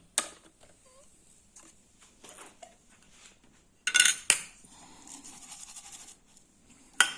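Plastic inner container being lifted out of a Russell Hobbs 23120-56 coffee grinder, heard as light clicks and scraping clatters, a couple of sharper knocks near the middle and end, close and quiet.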